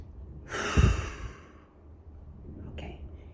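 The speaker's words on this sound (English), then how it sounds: "This is a cleansing breath." A single cleansing breath during meditation practice, with an audible inhale and a long, breathy exhale heard up close, followed by a fainter second breath sound.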